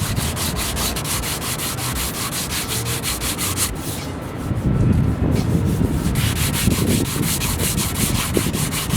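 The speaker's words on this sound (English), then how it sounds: "With a fresh sheet of sandpaper, I'm just going to go over this side now and do the same thing as the other side." A fresh sheet of sandpaper rubs over body filler on a car panel in steady rhythmic back-and-forth strokes, close and loud and continuous, with no talking.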